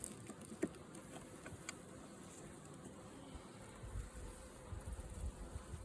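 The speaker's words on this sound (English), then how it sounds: "So it's just covered with bees." A dense, steady buzz of many bees close by at an open hive, with no voices.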